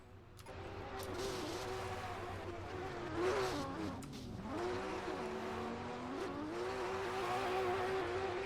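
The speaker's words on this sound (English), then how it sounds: "And a lot of drivers doing donuts." Race cars doing donuts in a racing video game, with a continuous revving engine drone and tires squealing as the pitch rises and falls through the spins, loud and close, with no talk.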